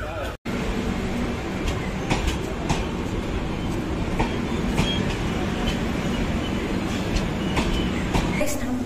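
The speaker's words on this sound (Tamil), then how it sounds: "நம்ம ட்ரெயின் கிளம்பிடுச்சு." A passenger train pulls out of Murdeshwar station and runs on the rails, with a steady close rumble and irregular clickety-clack wheel clicks that continue throughout.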